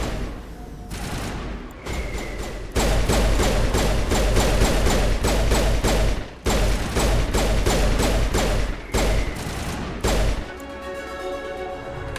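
Stinger 2 pistol fire in the Mass Effect video game comes as loud, rapid bursts of repeated shots in dense volleys, broken by short pauses and ending in a fading mechanical tail.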